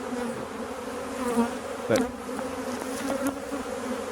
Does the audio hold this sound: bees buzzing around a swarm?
yes